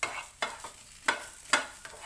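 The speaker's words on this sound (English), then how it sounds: "And then just roast this one." Coconut and mint chutney ingredients dry-roasting in a pan over a slow flame, several distinct spatula strikes and scrapes at uneven intervals over a soft sizzle.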